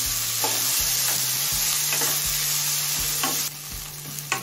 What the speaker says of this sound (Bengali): এবার পেঁয়াজটা হালকা লাল হয়ে আসা পর্যন্ত ভেজে নেব।